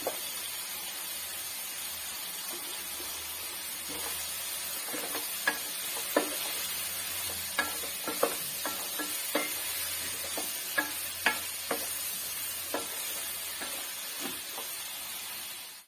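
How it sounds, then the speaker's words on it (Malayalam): Soybean chunks frying in a pan, a steady bright sizzle with scattered sharp clicks and scrapes of a spoon stirring through them, close and continuous with no talking. "നമുക്ക് ചെറുതായിട്ട് ഇളക്കി ഇട്ട് ഇത് ഒരുമാതിരി ഫ്രൈ ആക്കി എടുക്കണം."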